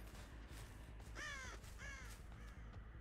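Crows cawing in the horror game Dead by Daylight, three hoarse caws in quick succession, fairly clear over a low rumbling ambient background.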